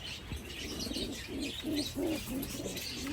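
Racing pigeons coo softly in their loft, a series of low, throaty rolling calls repeating every half second or so, close but quiet, over light background rustle.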